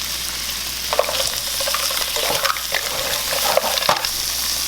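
Chopped onion and red pepper frying in a pan, a dense continuous hiss and crackle with occasional stirring scrapes and clinks, close and loud throughout.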